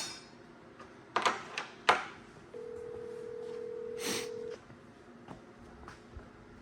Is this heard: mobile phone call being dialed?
yes